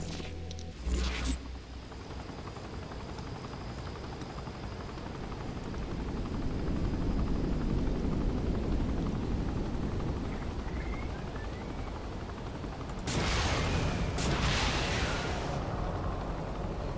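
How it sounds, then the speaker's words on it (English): A helicopter flying in the Saints Row IV video game gives a loud, continuous rotor and engine roar across the whole stretch, with sharp bursts of weapon fire near the start and again toward the end. "I'm putting this helicopter to very good use."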